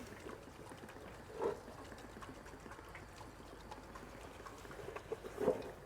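Water from a hose patters and splashes into a farm tank, a steady low wash broken by two louder splash bursts, near and without talk.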